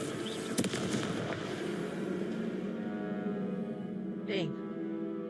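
The Confringo fire spell exploding in the video game Hogwarts Legacy, a sharp crackling blast near the start with a brief whooshing flare later, under a steady game soundscape and a voice.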